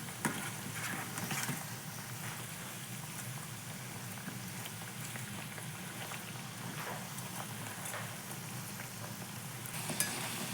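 Cauliflower pakoda frying in hot oil, a steady dense crackling sizzle throughout at moderate level with no talking.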